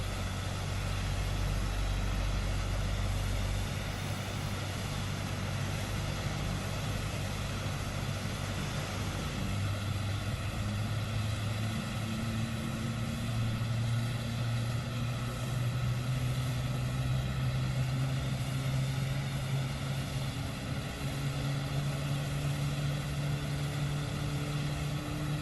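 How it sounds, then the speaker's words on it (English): Jet engines spool up in the PMDG flight simulator game as an airliner starts at Seattle, a loud continuous whine with tones that slowly climb in pitch over a low rumble, steady and close, with no talking. "Listen to those engines."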